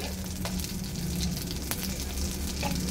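Cumin and chili tempering sizzling in oil in a kadai, a constant close hiss with a few sharp crackles and pops, steady and unbroken, with no voices.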